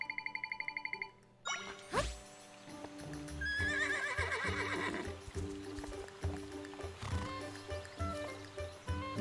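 A horse in the video game Zelda: Echoes of Wisdom gives a loud, wavering whinny after a short chime, then its hooves clip-clop in an uneven rhythm alongside game music.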